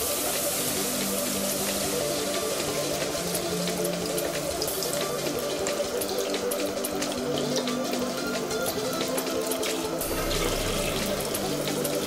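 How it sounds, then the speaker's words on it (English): Tap water streams steadily into a sink as a makeup brush is rinsed under it, a continuous close splashing rush with no talking. "just want to keep running it under the water until the water runs clear"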